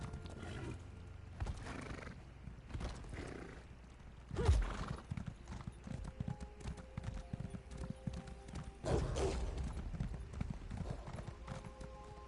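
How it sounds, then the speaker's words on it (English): Rapid hoofbeats clatter along in a quick rhythm in the video game The Elder Scrolls IV: Oblivion, with a horse's whinny cutting in partway through over a low game-like background. "I love how fast this horse is."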